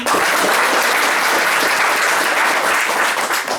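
Audience applause for the singers at a stage performance of Igraszki słowne in Ryglice, a steady, dense clapping of a large crowd that holds loud and even throughout without any talk.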